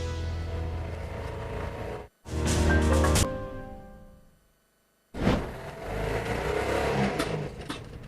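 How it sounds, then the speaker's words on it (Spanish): Air-powered car running on compressed air, a French invention, heard in two bursts of broad hissing, whooshing engine noise separated by a short drop-out and a silent gap, loud and close without voices. "Es un auto que funciona con aire comprimido."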